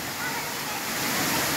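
A waterfall in Nosy Be, Madagascar roars as a dense, steady rush of falling water, loud and close, with talk mixed in.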